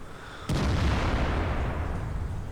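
A single heavy artillery shot from a World of Tanks battle booms abruptly after a quiet half-second, its broad blast rumbling and slowly decaying over the next two seconds.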